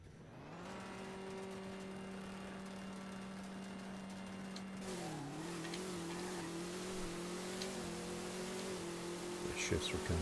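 Naturally aspirated Camaro TTG drag car in No Limit 2, its engine droning steadily, then dipping and revving back up through a shift, loud and close, with a voice talking over it.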